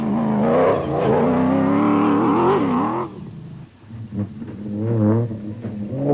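A Ford Ranger rally truck's engine revs hard and changes pitch under acceleration in a desert rally race, then drops away briefly before surging again, loud and close.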